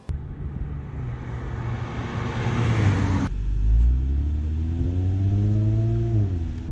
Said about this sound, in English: I'm about to go on a lap in the pace car